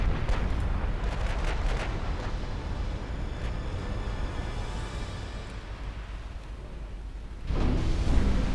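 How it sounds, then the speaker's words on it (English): Torpedoes strike enemy ships in the naval combat game Ultimate Admiral Dreadnoughts, a loud rumbling roar of explosions with sharp bursts early on and a fresh heavy blast near the end, continuous and without talk. "Oh, we got torpedo hits in the enemy swarm."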